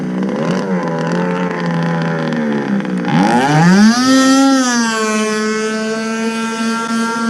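The Enforcer Super G RC powerboat's nitro engine with a tuned pipe screams at high pitch, holds a steady wail, then dips and surges sharply upward as the throttle opens, staying close and loud throughout.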